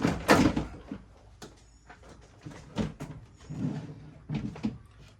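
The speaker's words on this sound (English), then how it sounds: "now we're going to go ahead and lift our door panel up" Plastic clunks, creaks and knocks come from a Toyota Tundra door panel being lifted off the door, a few sharp close handling bangs separated by quieter rustles.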